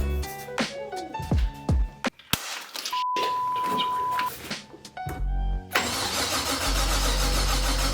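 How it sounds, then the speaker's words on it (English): An LS1 V8 swapped into a BMW E36 cranks and fires on its first start, with starter whirring, a sputtering catch, then a loud steady idle rumbling close by, preceded by assorted tones and clicks. "First attempt at first start on the BMW."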